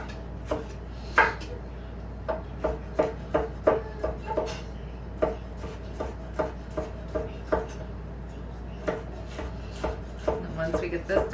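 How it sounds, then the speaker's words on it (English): Quick, chunky knife chops through vegetables for salsa on a cutting board, a steady run of sharp close taps with short pauses between bursts. "Just a nice quick chunky chop."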